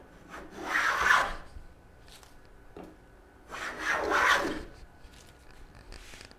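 A wooden support block is filed by hand in two distinct rasping bursts a few seconds apart, close and fairly quiet, with faint handling noises between strokes.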